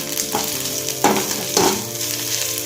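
Two fish sizzle in hot oil with a steady, fairly loud hiss, broken by three short scraping stirs spread across the few seconds.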